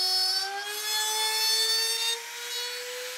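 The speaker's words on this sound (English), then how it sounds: "I can use a quarter inch router bit and cut the slot for the shank of the bolt to fit through." A high-pitched whine of a power router with a quarter-inch bit cutting a slot into wood, steady and close, dipping slightly in pitch and loudness near the end.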